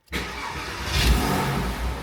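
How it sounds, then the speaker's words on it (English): A Porsche Boxster 986 engine cranks and catches in neutral, then settles into a steady, loud idle with a slight swell in revs, close by and with no talking. "I'm not sure if this car requires clutch in to start, but we'll check it."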